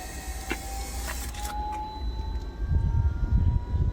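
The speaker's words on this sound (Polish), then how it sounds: "Wspomaganie." A faint electric whine holds a steady pitch over a low mechanical rumble from a Volvo race car's power steering pump. The rumble grows louder toward the end.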